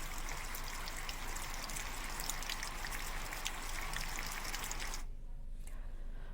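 Steady heavy rain in Vikasnagar, a dense even patter of drops on surfaces that holds loud and close for about five seconds, then cuts off abruptly into near quiet.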